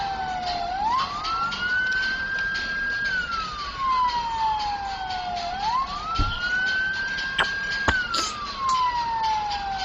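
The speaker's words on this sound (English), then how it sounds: "Zombie siren." A wailing siren, called a zombie siren, rises and falls in long slow sweeps. It carries on steadily over faint background noise, with a couple of sharp clicks.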